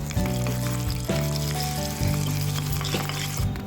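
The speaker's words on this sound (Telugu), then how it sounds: "4-5 ఎల్లిపాయలు వేసి వేగనివ్వాలి." Garlic with mustard seeds, cumin, curry leaves, dried red chillies and asafoetida crackles loudly in hot oil for a tempering. A dense, continuous sizzle sounds close up and alone, with a few louder bursts as spices hit the oil.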